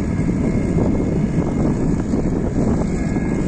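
An MTZ 80 tractor engine runs steadily while pulling an AGD 2.1 disc harrow across a former soybean field, a loud continuous rumble mixed with wind buffeting the microphone, with no talk.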